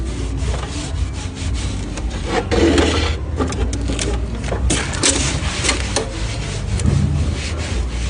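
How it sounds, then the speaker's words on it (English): Cloth rubs and wipes dust from inside a desktop PC case, giving close, continuous scrubbing and brushing strokes with irregular bursts and no talking. "Then you bring your clothes and you start cleaning inside here so that you remove all the dust inside."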